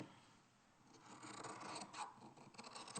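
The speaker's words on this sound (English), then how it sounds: "Oh, isn't that noise just lovely? Sharp scissors." Sharp scissors snip through fabric with crisp, scraping cuts, quiet and close, several strokes in a row.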